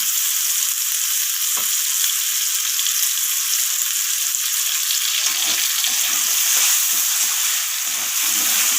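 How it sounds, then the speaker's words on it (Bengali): Chopped vegetables and tomato frying in oil in a pan for spicy semolina, a loud close continuous sizzle with occasional stirring scrapes, no voices. "তো এখানে আমার সমস্ত কিছু ভাজা হয়ে গেছে"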